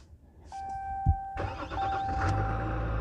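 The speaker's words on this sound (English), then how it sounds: "Listen to that diesel clatter" A Ram 1500 EcoDiesel turns over on a cold morning around the 20s, a chime sounding before the starter catches and the diesel settles into a steady, close idle.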